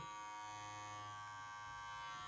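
A POWERTEC TR3500 runs with a steady, faint electric motor hum and a high whine, continuous and even throughout with no talk.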